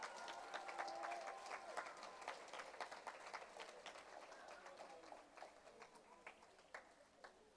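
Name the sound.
audience applause at awards ceremony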